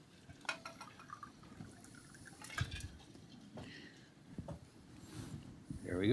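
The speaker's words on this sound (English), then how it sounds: "You want some water, Peter?" Water is poured into a drinking glass at a panel discussion on renegotiating the USMCA, a soft, faint trickle set against room murmur and faint background voices.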